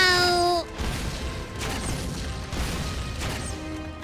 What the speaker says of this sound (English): I hear explosions